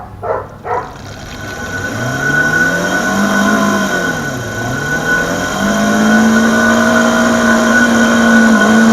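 A single engine revved with the throttle, close and loud, rising in pitch, dipping briefly, then climbing again to a high sustained whine after a couple of short initial bursts.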